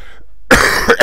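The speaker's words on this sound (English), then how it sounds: "I do apologise about this cough." A single person coughs sharply and close by, a brief burst followed by a couple of smaller rough coughs, after a moment of near silence.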